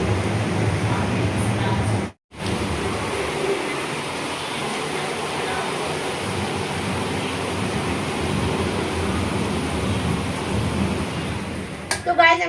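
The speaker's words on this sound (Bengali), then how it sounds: "বাবা কি জোরে বৃষ্টি নেমেছে।" Heavy rain pouring outside a home, a loud continuous roar with low thunder rumbling beneath it, briefly cut out early on and ending with a few clattering knocks.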